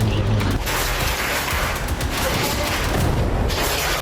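Remote-detonated bomb blast in a Gaza war report, a continuous loud rumbling roar with deep low-end booming and broadband noise sustained throughout, no clear gaps.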